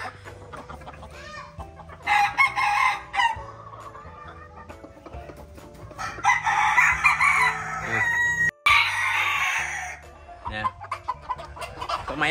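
Chickens on a chicken farm in Tay Ninh, Vietnam, clucking continuously close by while roosters crow loudly in several long bursts, with the calls overlapping and no talking.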